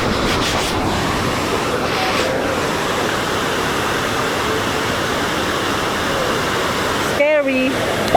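Water rushes steadily at a new dam in Pangasinan, a constant loud roar like a waterfall that fills the whole span, with a brief whistle-like tone near the end.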